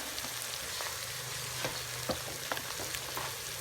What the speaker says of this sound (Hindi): ये देखें सब्ज़ मिर्च इसके साथ ही जाएगी ताकि अच्छे से फ्राई हो जाए, कच्ची कच्ची नहीं रह जाए। इसको फ्राई कर लेते हैं थोड़ा सा